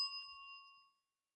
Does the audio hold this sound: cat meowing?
no